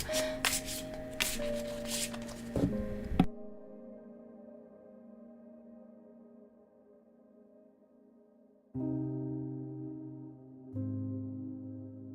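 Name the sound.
shuffling tarot cards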